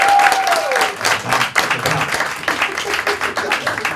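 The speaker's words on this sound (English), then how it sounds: "Everyone clap your hands." An audience at a comedy night breaks into loud sustained applause and clapping, a dense crowd sound heard close, with a brief whistle at the start.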